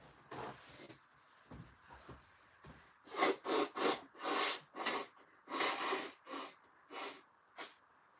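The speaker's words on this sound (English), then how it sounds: "I need to blow my nose again" A person blows their nose several times in a row, wet honking bursts close by, each a second or so long, separated by brief sniffles and rustling.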